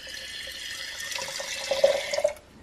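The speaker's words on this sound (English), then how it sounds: "I'm going to probably put, you know, like a third a cup of water or so in there." Water runs steadily into a jar holding baking powder, the pour growing louder and splashier toward the end before stopping abruptly, close and alone with no talk.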